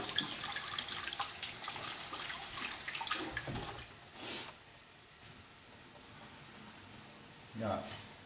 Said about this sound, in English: Going to give my hands a quick wash because of the mincemeat.